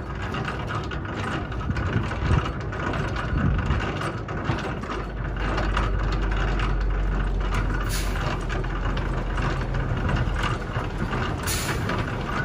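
A tractor-trailer's landing gear being cranked, with rapid ratcheting clicks and mechanical clatter up close over a truck engine idling steadily in the background, no voices.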